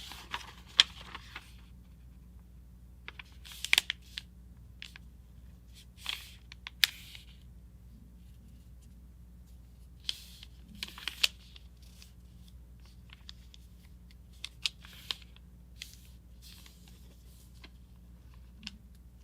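A sheet of paper being folded into a jet-style paper airplane makes faint, crisp creasing clicks and soft rustles, scattered irregularly across a quiet background.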